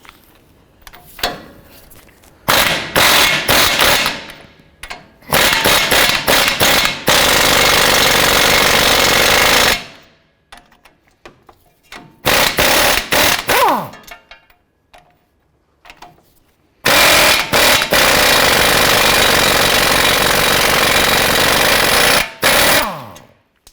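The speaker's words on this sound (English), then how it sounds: "Next, use a 21mm socket. We're going to go ahead and remove this nut and this nut." An impact wrench fitted with a 21mm socket zips ball joint nuts off the front lower ball joint of a 2007-17 Jeep Wrangler, firing in several loud, sustained bursts separated by short quiet gaps.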